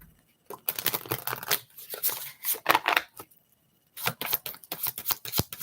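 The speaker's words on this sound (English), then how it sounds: "Shuffle these cards, right," Playing cards are shuffled up close, with crisp riffling and fluttering bursts that come in separate runs and stop in short silences between them.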